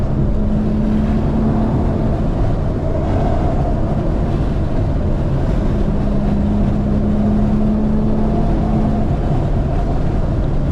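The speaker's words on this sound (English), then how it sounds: "listen to the exhaust noise" An Infiniti Q50 exhaust drones steadily, loud and rumbling, while cruising on a highway at night, with constant low road and engine noise and no pauses.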